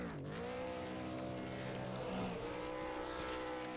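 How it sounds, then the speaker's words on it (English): A Super Late Model race car doing burnouts at Auto Club Speedway, its engine holding a loud, sustained roar that dips and climbs again, with a faint tire squeal mixed in. "Well, looks like some burnouts indeed."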